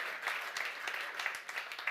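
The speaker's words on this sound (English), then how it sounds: "I think a round of applause for just that accomplishment" Audience at a New Year's event applauds, a moderate wash of clapping that holds steady for a couple of seconds without any clear voices over it.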